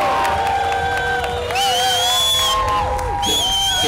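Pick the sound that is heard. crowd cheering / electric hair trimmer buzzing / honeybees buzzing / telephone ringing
crowd cheering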